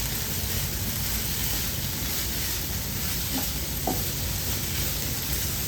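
Mixed vegetables sizzle and fry in a pan over a medium flame while being stirred for an omelette, a constant hissing crackle with a couple of faint scraping knocks from the spoon.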